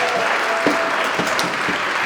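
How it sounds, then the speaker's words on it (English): Applause from an outdoor community crowd at a Boston 250 launch event in Roxbury, a steady wash of clapping held at an even level throughout, with a faint tone running underneath. "Give a round of applause to Brian."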